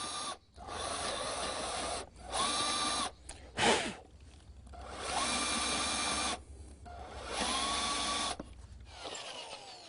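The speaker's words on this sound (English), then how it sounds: "Drill 5/8 inch mortises in the underside of the seat back, and then matching mortises in the seat." A power drill bores 5/8 inch mortises into a wooden rustic chair seat, whining in several bursts of a few seconds each, with short pauses and a brief scraping between them.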